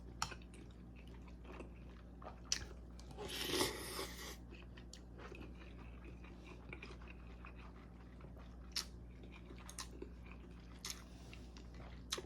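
Someone eats a bowl of homemade oxtail pho with pork: close, soft chewing and slurping with a louder burst of slurping mid-clip, scattered clicks of utensils over a steady low hum, no talk.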